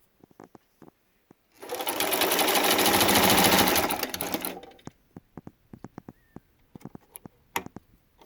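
A Singer Fashion Mate 327 sewing machine runs a burst of stitching for a few seconds, a steady rapid mechanical whir, framed by scattered clicks and taps before and after.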